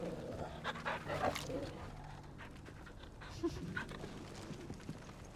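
A dog in Final Fantasy XVI pants rapidly and gives a few short yips and barks, close and moderately loud, with people talking over parts of it.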